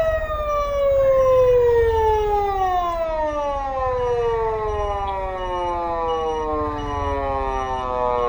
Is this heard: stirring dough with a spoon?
no